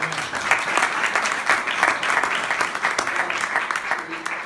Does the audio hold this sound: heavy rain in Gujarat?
no